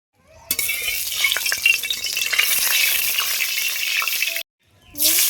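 Fish frying in mustard oil in a hot wok: an abrupt loud sizzle bursts in and crackles steadily for several seconds, cuts off, then resumes sharply at the end.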